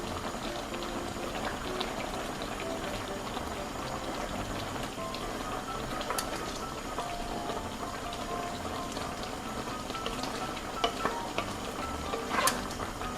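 Korean spicy chicken stew with potatoes, green onions and mushrooms bubbles and simmers in a pot, a low, steady burble with faint sizzling and occasional clinks of a utensil, no voices.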